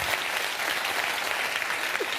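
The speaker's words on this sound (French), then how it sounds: "On peut les applaudir." A studio audience on a televised talent competition applauds contestants, a continuous, even burst of clapping with no voices over it.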